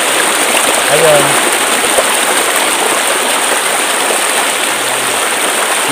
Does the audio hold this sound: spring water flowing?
yes